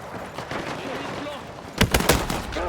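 Gunfire in the video game Battlefield 6: a sharp cluster of loud shots bursts out near the end over a dense battlefield din, with someone talking over the action.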